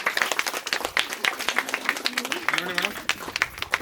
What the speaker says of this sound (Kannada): ದಯವಿಟ್ಟು ಚಪ್ಪಾಳೆ ಹೊಡಿಬೇಕು.